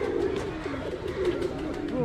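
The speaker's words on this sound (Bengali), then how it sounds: "এখানে কবুতর দেখে আমার কবুতরের কথা মনে পড়ে গেছে" Pigeons at Chittagong Zoo coo in low, rolling, repeated calls close by, overlapping one another against faint background bustle.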